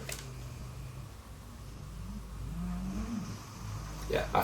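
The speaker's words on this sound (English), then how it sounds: "I can hear my dog snoring really loud at the minute." A dog snores loudly indoors, a low, rasping rumble that swells through the middle of the clip and holds steady over faint room noise.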